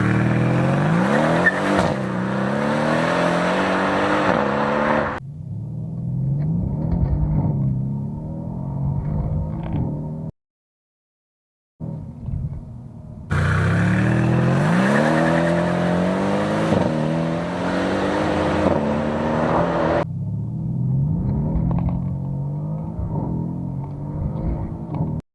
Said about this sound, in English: let's launch the car and test out how it performs